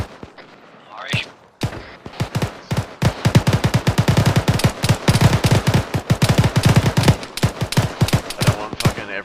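Sustained automatic machine gun fire in the Arma 3 military shooter, dense rapid bursts of loud close shots with a few isolated reports at the start, continuing for several seconds with brief gaps.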